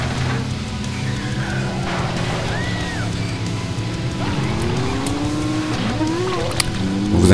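Race cars roar through a coastal circuit with a loop in the vintage video game Carmageddon, engines whining and shifting pitch continuously with occasional tire squeals, loud and close throughout.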